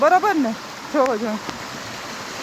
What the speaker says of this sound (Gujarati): અહીંયા જ્યાં જોઈએ ત્યાં ડગલે ને પગલે આવા ઝરણા છે પહાડમાંથી વહેતા